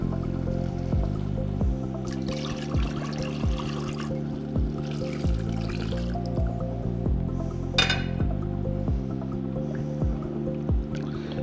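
Water poured into a pot of cooked lentils with cumin and pepper powder for Karnataka-style bonda soup, a soft dribbling trickle under a steady low kitchen hum, with a brief liquid splash near the end.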